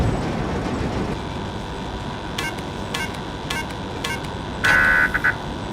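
A running train rumbles steadily in the video game Demo Friend - Process on PC, a continuous low roar with brief bright clicks and a short electronic beep near the end.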